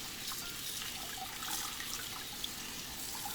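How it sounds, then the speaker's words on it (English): Tap water runs steadily into a bowl to rinse sea moss, a continuous broadband splashing and rushing at close range with no talking. "right now I'm just letting the water fill up"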